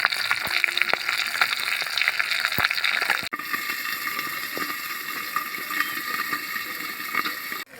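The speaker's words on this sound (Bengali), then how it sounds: "ওই জল দিয়ে দিয়েছি এবার তরকারিটা কিছুক্ষণ ফুটবে" A curry cooked with poppy seed paste simmers in a pan on a village stove, a continuous close bubbling and hissing with scattered soft pops, no voices.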